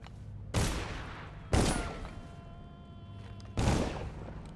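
Three separate bursts of gunfire in the video game Dishonored, each a sharp crack that trails off into a fading rattle, spaced about a second apart, moderately loud with no voices.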